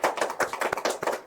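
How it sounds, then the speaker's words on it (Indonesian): A short burst of applause from a few people during a morning campus talk show, a quick run of close, uneven claps. "Tepuk tangan."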